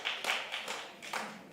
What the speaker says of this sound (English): 3 people are clapping.